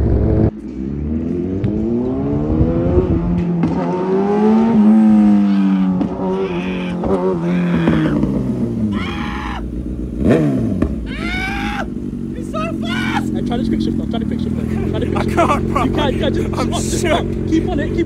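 A Kawasaki ZX6R motorcycle ridden at speed at night, its engine climbing sharply through the revs and shifting gears, loud and close, with other traffic passing and people talking over it.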